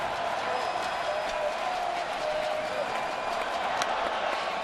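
A baseball stadium crowd in Oakland cheers and applauds for the A's during a 2012 ALDS playoff game, a steady dense roar held throughout at even loudness.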